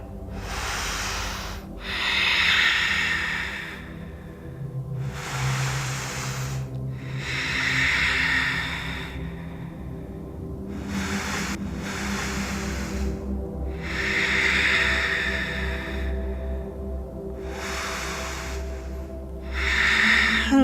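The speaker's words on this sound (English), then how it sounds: "Out of all the yoga poses in the world, this is the one to really exaggerate that breath." Slow, exaggerated deep breaths during a gentle yoga pose for the inner thighs and groin, long hissing inhales and exhales alternating in a steady rhythm, close and alone with no talking.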